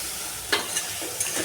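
Masala being stirred and fried in oil in a pan, a steady hissing sizzle broken by three short scrapes of the spoon, close and fairly loud, with no voices.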